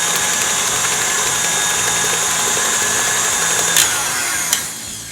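A food processor whizzes banana cake batter mixed with salt, giving a loud, steady motor whir that runs unbroken for several seconds before a couple of brief clunks near the end.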